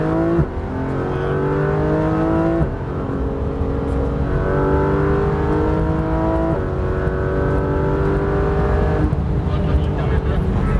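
A Porsche GT3 RS engine revs hard on track, loud and close, climbing through gears in stepped pitch rises with brief shift breaks, while a voice talks over it.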